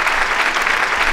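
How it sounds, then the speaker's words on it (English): Canned applause track on a firearms talk show, a dense, steady wash of clapping hands, loud and close, with no voices over it. "I love that applause track because it just makes it sound like we got hundreds of people in here."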